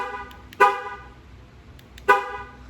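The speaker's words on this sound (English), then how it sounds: "You should hear the horn on the Jeep outside honk." A Jeep Gladiator's horn sounds outside in two short, loud honks about a second and a half apart, each bright and harmonic-rich over a quiet background.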